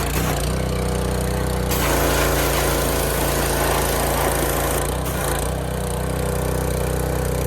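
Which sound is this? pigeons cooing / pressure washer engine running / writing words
pressure washer engine running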